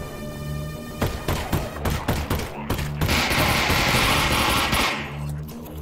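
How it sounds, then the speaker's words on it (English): Combine soldiers' guns firing in the VR game Half-Life: Alyx: a run of loud, rapid thumping shots, then a sustained burst of automatic fire that rattles on for a couple of seconds before cutting off. "those guns are really, really loud"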